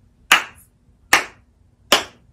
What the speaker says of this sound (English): Can you clap it?